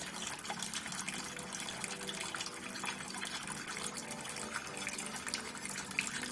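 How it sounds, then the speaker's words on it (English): Water discharging over a spillway beneath an Amanziflow TOPS gate as the gate empties and swings away, a steady broadband rush of flowing water holding even and continuous throughout with no voices. "The water will now discharge over the spillway underneath the gate as the gate empties and moves away from the spillway."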